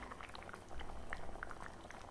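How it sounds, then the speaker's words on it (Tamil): Cauliflower paya curry simmering in a pot, a soft continuous bubbling with scattered small pops, fairly faint and steady throughout. "எல்லாமே சேர்ந்து நல்லா கொதிச்சு நல்ல ஒரு கன்சிஸ்டன்சி கிடைச்சிருக்கு நமக்கு"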